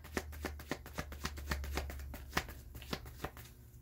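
Tarot cards being shuffled by hand, a rapid series of crisp riffling snaps at a steady rhythm, close and fairly quiet.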